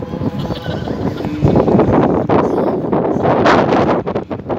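Strong wind buffets the microphone with a loud, continuous roar and gusty rumbling, with no voices present.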